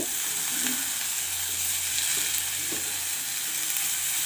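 Bitter gourd with onion stir-frying in a pan over a low flame, a dense, even hiss of frying oil that stays steady throughout, with faint stirring touches beneath and no voices.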